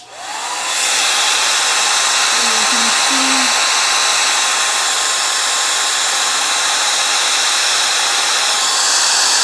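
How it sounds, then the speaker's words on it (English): Blow dryer switched on and running loud and steady at close range, a constant whooshing motor roar that continues throughout, with a brief voice speaking underneath near the start. "let's use the magical blow dryer. It's gonna be kind of loud, sorry."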